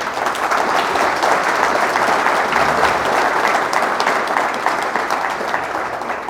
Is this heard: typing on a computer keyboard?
no